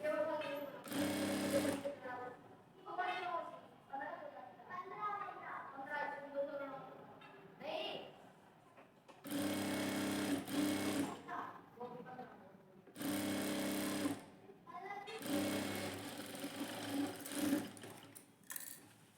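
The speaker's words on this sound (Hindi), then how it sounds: "ये देखिए एक सिलाई हमने लगा ली और यहाँ पर अब हम डबल सिलाई लगा लेंगे" A sewing machine stitches blouse sleeves in close, loud bursts of rapid running, several separate runs broken by pauses in which someone speaks.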